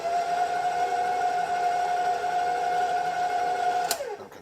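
An electric stand mixer with a paddle beater churns cranberry cake dough in a steady, loud motor whine that holds for about four seconds, then cuts off and winds down.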